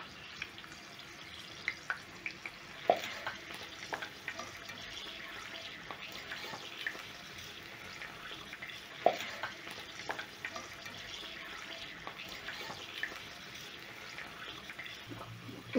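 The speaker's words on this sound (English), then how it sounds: "So as the sausages are frying, I'm going to move the sausages slightly" Steady sizzling and crackling of sausages frying in a pan, with occasional light clinks and scraping as they are moved.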